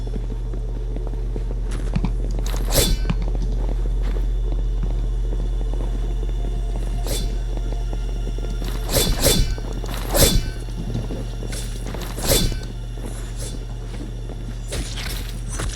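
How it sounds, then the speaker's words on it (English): In the Roblox game Ink Games, sparse footsteps land on a hard floor at irregular intervals, some in short clusters, moderately close over a constant low hum, with no talking. "If you do hear footsteps, wait for the footsteps to go away."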